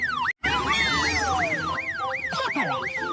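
A wailing police car siren sweeps up and down repeatedly, loud and close, with overlapping layered tones and a brief dropout near the start.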